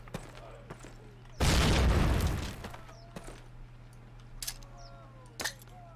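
A frag grenade explodes in a Call of Duty training exercise, one loud deep blast with a rumbling tail lasting about a second, with scattered faint game sounds before and after.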